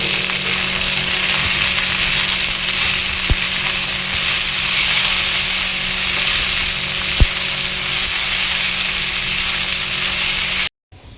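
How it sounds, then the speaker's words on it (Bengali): Radish greens fry in oil with onion, garlic and chili, making a loud, even, steady sizzle up close, with a couple of faint knocks partway through, before it cuts off near the end. "পেঁয়াজ আর রসুন আর লঙ্কা ভেজে নিয়েছি। এতে মূলো শাকটা দিয়ে দিচ্ছি।"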